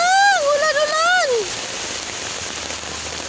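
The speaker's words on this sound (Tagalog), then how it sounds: "Lakas ng ulan, guys." Heavy rain pours steadily on a stormy afternoon walk, a dense wash of hiss that continues after a voice calls out over it for the first second and a half.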